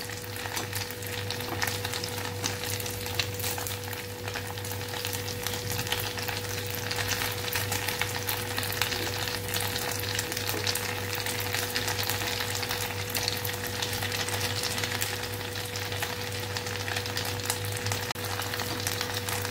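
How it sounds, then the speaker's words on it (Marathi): Rava and raw potato vadi fry in a pan with oil, giving a steady, continuous sizzle close by that holds evenly throughout, with a faint constant hum underneath and no talking. "दोन्ही साईडने चांगल्या अशा फ्राय करून घ्यायच्या आहेत."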